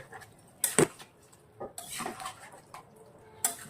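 Coriander chicken being stirred in a cooking pot, with a few scattered metal spoon scrapes and clinks against the pot at irregular intervals, fairly close.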